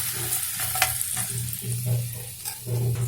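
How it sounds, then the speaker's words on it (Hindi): Hot oil with ajwain and asafoetida poured over green chili and raw mango pickle, a close, loud crackling sizzle that rises and falls in short bursts with a low hum beneath. "गर्म तेल डालने से अचार के मसाले अच्छी तरह से पक जाते हैं।"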